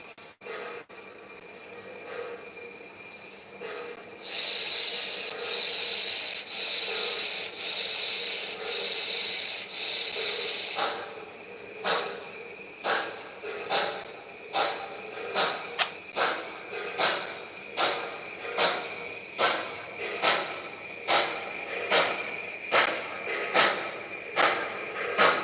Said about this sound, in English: This engine has a really nice whistle, and also, as many people know, the MTH trains don't have the bassiest sound, so I added a more bassy chuff.